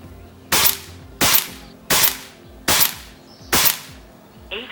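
An Air Venturi Nova Vista air rifle fires H&N Baracuda 15-grain pellets, single-loaded: five sharp, loud cracks spaced about 0.7 seconds apart, each with a brief decay, then a faint metallic click.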